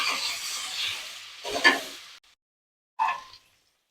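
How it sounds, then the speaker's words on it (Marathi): Paneer frying in melted butter in a pan at home, with a soft sizzle under stirring and scraping sounds that come in short bursts and then stop. "पनीर फ्राय करून घ्यायचं आहे बटरमध्ये"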